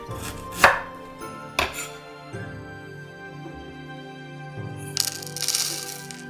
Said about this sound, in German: Lauchzwiebel in grobe Stücke schneiden. Ingwer in dicke Scheiben schneiden.